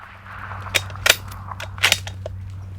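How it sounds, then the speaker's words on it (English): A rifle fired at a roe deer at close range during a stalk, heard as a few sharp, brief cracks spread over about three seconds above a low, steady outdoor hum. "I make one of the most unorthodox shots I've ever had to take."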